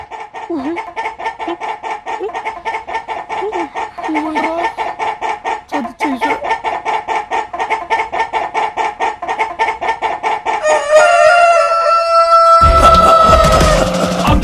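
A rooster clucks in a rapid, steady series close by, then breaks into a loud, drawn-out crow near the end.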